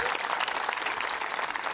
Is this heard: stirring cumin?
no